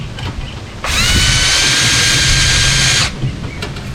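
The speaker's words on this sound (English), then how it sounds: "I like to use an oversized drill bit just to deburr." A power drill spins an oversized bit against the end of a brake line to deburr it, giving one loud, steady high-pitched whine of a little over two seconds, with quieter handling noise before and after.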